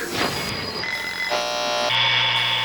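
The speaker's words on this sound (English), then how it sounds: "Sleep that's vaporized by the alarm clock." An electronic alarm clock beeps and buzzes in shifting tones, loud and continuous, with the pitch changing several times.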